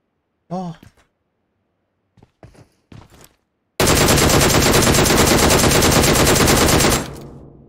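In PUBG Mobile, a few brief game sounds and breaths break the silence before a loud, sustained burst of automatic gunfire rattles for about three seconds and then stops abruptly.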